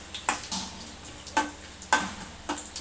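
Mustard seeds and dried red chillies frying in hot oil, sounding as a low sizzle broken by sharp crackling pops that come in irregular bursts, close by and with no voices.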